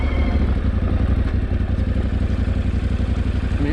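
Yamaha Tenere 700 motorcycle crossing rough off-road terrain, its engine a loud, close, steady throb overlaid with rapid rhythmic clatter from the bumps, with no voices.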